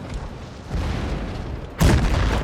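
A tank cannon firing in World of Tanks Blitz from a Vickers Light, heard as a sudden loud boom that breaks over a steady rumble of game noise near the end.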